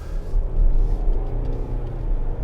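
A 2022 Mitsubishi Outlander SUV with a 2.5 liter 4-cylinder engine and CVT, driving, heard as a steady low engine and road rumble from inside the cabin, close and continuous with no talk.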